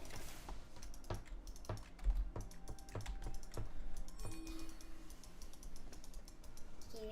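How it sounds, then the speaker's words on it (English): A cat taps a computer keyboard at random in a quiet room, producing scattered, irregular clicks and clacks with uneven gaps that come fairly close and soft. "randomly tapping the keyboard"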